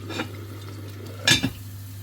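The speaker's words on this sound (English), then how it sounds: "what I'm going to do now is to cover the pot" A lid clanks onto a pot of chicken pieces deep-frying in oil, a brief metallic knock over a steady low frying hiss, with a faint earlier clink of cookware.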